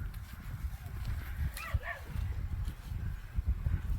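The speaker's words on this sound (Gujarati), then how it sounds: "6-7 કૂતરા છે ને ભાઈ એવા હેરાન કરે છે ને ધાણા ખૂંદી નાખે છે" Several dogs bark in a farm field among coriander crops, with a couple of brief yelps standing out over steady low rumbling outdoor noise and handling sounds.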